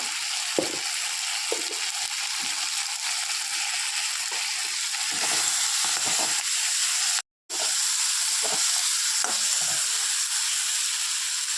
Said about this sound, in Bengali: এর মধ্যে আমি কড়ার মধ্যে ডালটা ঢেলে দিলাম।